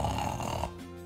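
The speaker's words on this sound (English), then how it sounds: "Stupid snoring." A single loud, close snore rattles with a rough, throaty buzz that lasts just over half a second and fades into a lower hum.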